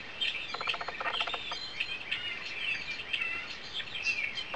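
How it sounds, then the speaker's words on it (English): A starling's song plays from a recording: a steady stream of high chirps, whistles and warbles, moderately faint against a constant background hiss. "if you listen carefully, you can hear starling's song in the background"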